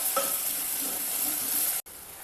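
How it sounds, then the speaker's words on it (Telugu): Cloves, shahjeera and cinnamon sizzle in hot oil in a pan for home-style pesarapappu khichdi, a steady close hiss that cuts out briefly before continuing. "ఇది వేసుకొని బాగా ఫ్రై చేయాలండి"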